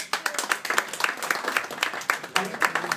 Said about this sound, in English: but a big applause